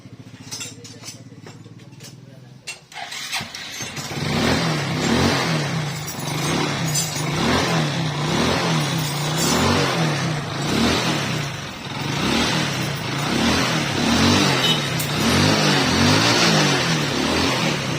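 A Hero Glamour FI motorcycle, just repaired after a faulty fuel tank pump motor kept it from starting, catches after a brief quiet lead-in and idles and revs steadily up close with a pulsing, even engine note, with no talk over it.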